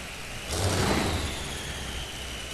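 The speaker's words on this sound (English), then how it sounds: "You hear those familiar Allison aircraft engines firing up." Allison aircraft engines, as used in P-38s, rumble steadily at a farm machinery show, with a surge of power about half a second in that settles into a sustained roar.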